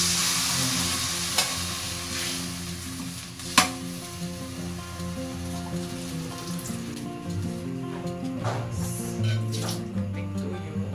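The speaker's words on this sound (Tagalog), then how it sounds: "Mag-add ako ng water." Tilapia sauce bubbles and sizzles steadily in a frying pan after water is added, with a continuous close crackle and a few sharp clinks of stirring utensils.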